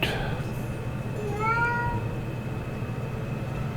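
A small Siamese cat lets out one drawn-out, rising-then-falling meow near the middle, heard close over a steady low indoor hum.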